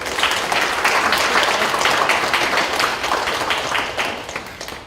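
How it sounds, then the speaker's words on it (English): Audience applause at a county public schools board meeting, a dense continuous patter of many hands clapping at fairly close range, steady for the whole stretch and tapering slightly near the end. "Let's give Natalie another round of applause."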